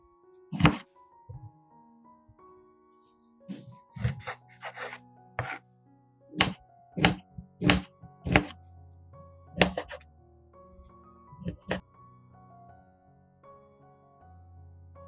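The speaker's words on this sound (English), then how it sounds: "First, slice the lemons into thin, even slices." A knife cuts lemons into thin, even slices on a board, giving a series of sharp, close thunks in uneven bursts separated by short quiet gaps.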